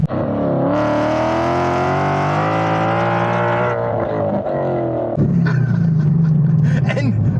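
A modified Ford Mustang GT V8 with 500-plus horsepower revs hard with a loud, rising roar, holds high, then drops to a rumbling idle. Someone speaks over the later part.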